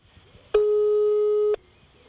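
A single long telephone tone from an unanswered call, a steady electronic beep lasting about a second, clear and alone over a quiet background.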